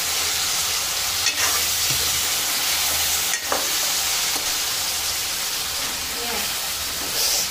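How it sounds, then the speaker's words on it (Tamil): Tomatoes sautéing in a pan for Tamil-style fish curry (meen kuzhambu), a steady close sizzle and hiss with a few faint spoon stirs scraping through. "தக்காளி நல்லா வதங்கட்டும்."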